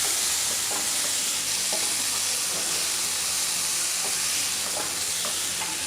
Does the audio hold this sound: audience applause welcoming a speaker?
no